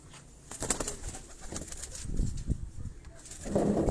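Pigeons in a loft at a home, giving soft intermittent coos and brief flutters of wings, faint and close, with low background murmur.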